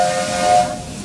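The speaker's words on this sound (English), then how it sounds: "those two whistles do indicate that Captain Jack has stopped causing trouble" A steam train whistle at the Magic Kingdom blows one loud, close, breathy tone with a hiss behind it that fades at the end.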